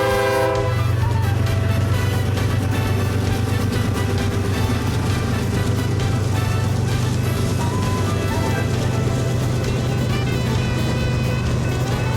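A BNSF freight train led by hybrid unit 7816 and trailing dead-in-tow Dash 9 locomotives rumbles past with a loud, sustained horn blast held almost the entire time over the heavy roll of the cars.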